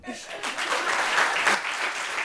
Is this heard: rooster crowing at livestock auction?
no